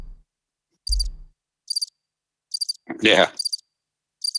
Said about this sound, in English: Where's my crickets?